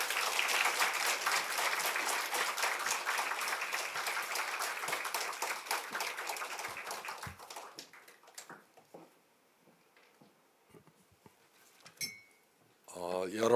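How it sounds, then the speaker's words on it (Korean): A church congregation claps to welcome a pastor at a Sunday worship service, loud sustained applause that fades after about seven seconds into quieter scattered sounds and a few brief bursts. "우리 박수로 축복하면서 목사님을 맞이하겠습니다"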